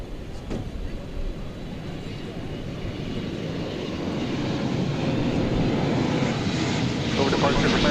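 American Airlines Flight 30 departs DFW Airport with a steady jet engine roar that grows gradually louder and fuller across the stretch, continuous and unbroken.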